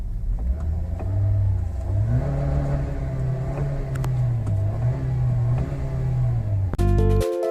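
A Toyota Avanza/Veloz engine hums steadily at idle, then revs in a few rising and falling swells before cutting off with a short mechanical beep at the end; close and clear, no talking.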